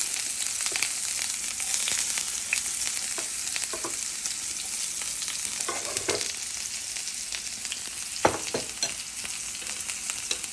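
Chopped onions sauté in a frying pan for a simple Filipino home breakfast, giving a steady close sizzle with scattered clicks and scrapes of stirring throughout, and no voices.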